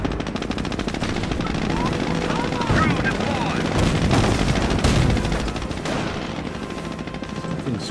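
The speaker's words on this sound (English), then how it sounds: "Something's chucking mortars at me." Mortar fire and rapid gunfire in the Company of Heroes: Tales of Valor war game, a dense rumbling barrage of booms and rattling shots with aircraft-like drone running continuously throughout.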